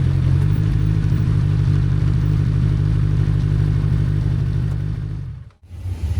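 A Legends race car idles and rolls into the pits, its engine a loud, close, lumpy burble that steadily fades, cuts out briefly near the end, then catches again.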